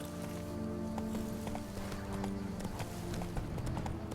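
Horse hooves clip-clop steadily under game music in The Witcher 3: Blood and Wine, a continuous rhythmic gallop heard close throughout.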